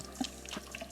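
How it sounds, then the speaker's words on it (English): Cold tap water runs over tomatoes being rinsed in a sink, a soft, faint splashing with a few small spattering bursts, with no voices. "We are just going to rinse under cold water"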